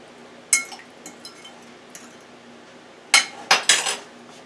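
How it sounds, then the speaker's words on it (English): Utensil clinking against a bowl while crab cake ingredients are mixed together, a few scattered taps followed by a quicker burst of clanks near the end, close and moderately loud with no talk. "Alright, so now I'm going to mix this together."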